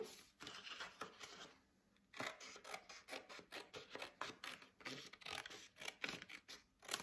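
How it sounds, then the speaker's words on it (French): Scissors snip through paper along a pencil line for a scrapbook pop-up page, a rapid series of close, crisp cuts with brief pauses, no voices. "On va couper donc sur le trait au crayon."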